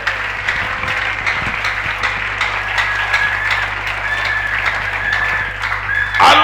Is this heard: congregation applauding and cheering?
yes